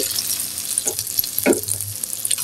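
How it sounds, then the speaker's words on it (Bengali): Radish pakoras deep fry in hot oil on their second batch, a dense continuous sizzle with a few brief bubbling bursts and stirring sounds. "পাকুড়াগুলি ভেজে নিচ্ছি।"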